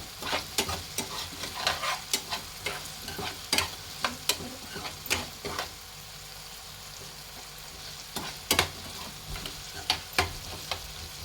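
Potatoes fry until reddish, a steady sizzle in the pan broken by regular sharp clicks and scrapes of a utensil stirring them.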